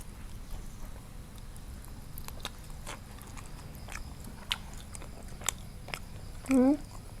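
Sporadic soft crunchy bites and wet chewing on boiled and grilled rain-frog eggs, an Isan-style dish, faint and close over a steady low background hum, with a short burst of voice near the end.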